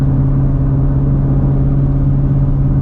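A Shelby GT350's engine holds a high, sustained rev, producing a constant, loud, close-up hum that stays level throughout with no voices.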